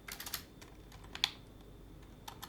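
Someone types in a command on a computer keyboard, producing a few quick, faint key clicks with short gaps, close and quiet in an otherwise still room.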